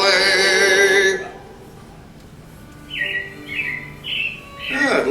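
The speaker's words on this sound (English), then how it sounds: "It looks like the Robins are getting ready to celebrate Valentine's Day today." Robins chirp and tweet in short, bright bursts inside the Carousel of Progress attraction at Magic Kingdom, three or four near, clear calls following a sung passage, with a denser flurry of chirps at the end.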